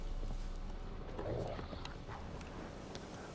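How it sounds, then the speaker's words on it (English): Horse hooves clip-clopping in a rapid galloping rhythm as a summoned horse arrives in The Witcher 3 video game, moderately faint under ambient game background sound, no speech. "Horses, summon your horse."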